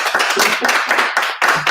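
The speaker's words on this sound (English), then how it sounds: "So if I go like this, you guys got to applause and cheer" A studio audience claps in quick bursts of dense, loud applause, fairly close and lasting a brief moment with no talking over it.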